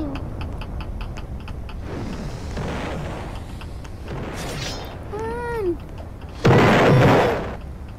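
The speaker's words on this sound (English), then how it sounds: "The explosion." An explosion in a video game bursts out as a loud, broad blast near the end, following ticking, whooshing and a warbling rising tone, with players talking over the game sounds.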